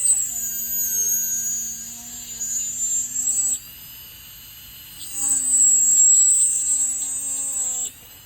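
A dental lab drill trims an Essix retainer, whining steadily at high pitch, pausing briefly near the middle, then resuming with the whine shifting as the cut continues.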